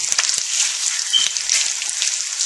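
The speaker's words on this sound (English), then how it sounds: "when you're frying up your tocino" Filipino tocino (sweet cured pork) sizzles steadily in a hot pan, a dense crackling hiss with tiny pops as the sugars brown, close and even, without any talking.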